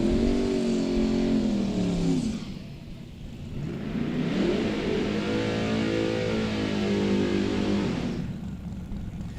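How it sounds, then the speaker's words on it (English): A Dodge drag car makes a single pass down the strip at a South Georgia drag race. The loud engine roars and revs through gear changes, dips briefly, then pulls hard again and fades, with no talk. "So the Dodge Sport coming up left-hand side for a single pass."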